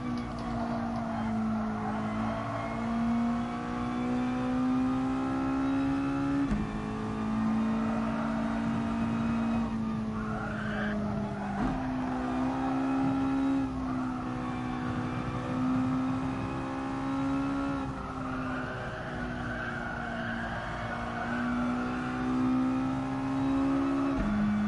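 Mazda touring car engine in a racing video game, lapping the Suzuka circuit: a steady, loud engine drone with repeated rising gear pulls, shifts and drops in pitch, running continuously without talk.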